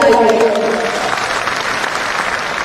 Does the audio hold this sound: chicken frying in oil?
no